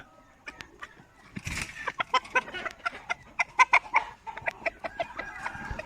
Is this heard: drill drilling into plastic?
no